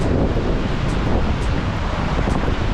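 A fast mountain river near Gangotri rushes past a wooden footbridge, a loud unbroken roar of turbulent water filling the whole clip, with wind buffeting the microphone and no voices.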